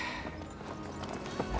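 Horse hooves clip-clop faintly beneath a busy, muffled background, irregular and fairly distant, in a period drama scene around horse racing from Dublin.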